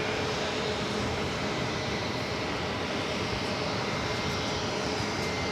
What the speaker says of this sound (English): And that's Air France Flight 5 off the Charles de Gaulle, 777-300 ER